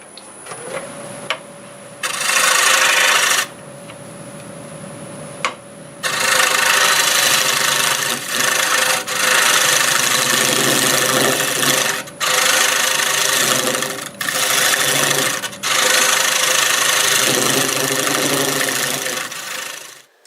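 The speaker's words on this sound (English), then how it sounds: "I think I'll use my negative rake scraper here with that round tip just to get in there and clean that up" Wood lathe turning mesquite, a negative rake scraper with a round tip cleaning up the surface, with a steady motor hum and repeated bursts of loud rough scraping that start and stop over about twenty seconds.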